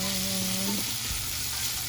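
Butter sizzling as it melts in a pan with pepper added, a steady close hiss throughout, with a brief tonal hum in the first moment.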